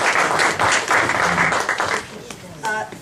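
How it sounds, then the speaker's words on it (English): A Tea Party meeting crowd claps briefly in a loud burst of applause that fades, with voices speaking over it toward the end. "quick round of applause"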